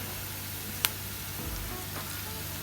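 A green chilli frying in hot virgin olive oil for a spicy garlic French beans dish, giving a steady close sizzle with one sharp crackle near the start.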